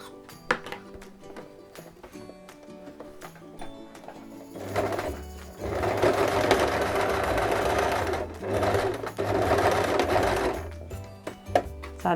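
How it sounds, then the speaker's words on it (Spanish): A sewing machine stitches a zippered crossbody bag with a normal presser foot, running in rapid bursts. Quiet pauses and small clicks fall between the runs, and the sound is close and steady, with no voice. "cosiendo hasta el final de nuestra bandolera"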